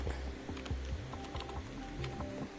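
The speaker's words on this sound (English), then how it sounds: "One-handed typing." Computer keyboard typed on one-handed during a Planet Crafter game session, with quick irregular clicks and key taps close by over a low background hum.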